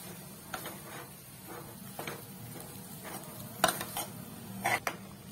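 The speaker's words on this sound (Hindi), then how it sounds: "आलू जो मैश करके रखे थे इसको डाल देते हैं, मिक्स करते हैं।" Potatoes mashed and mixed into a masala in a pan for cheese burger filling with green coriander, giving soft scraping and clinking of a spoon against the pan, with a few sharper knocks near the end.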